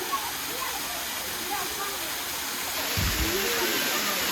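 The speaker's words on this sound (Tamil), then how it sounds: "தொட்டிக்கோனா கைஸ், தொட்டிக்கோனா வாட்டர் ஃபால்ஸ்." Thotti Kona, a hidden waterfall, gives off a steady, broad roar of falling water heard up close, with a brief low thump near the end.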